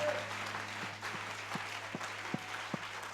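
A church congregation clapping in rhythm, a steady beat of claps about twice a second over a low crowd murmur and a constant background hum.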